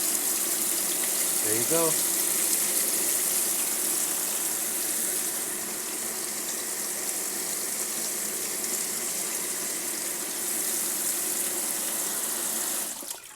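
A DIY livewell pump runs steadily, pushing water through a hose with a continuous loud gushing rush that barely changes and cuts off near the end. Someone speaks briefly.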